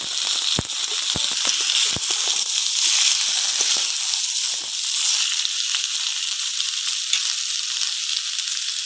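Raw jackfruit hitting hot oil with fried onion, garlic and chili in a pan gives a loud, continuous hissing sizzle with a few sharp crackles near the start, steady throughout.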